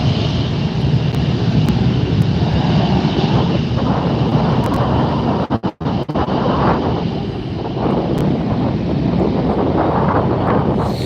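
Airplane passing at LAX airport during plane spotting, a loud, continuous engine roar with heavy wind buffeting the microphone, briefly cutting out midway before the jet noise resumes and carries on.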